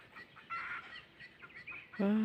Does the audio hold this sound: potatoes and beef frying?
no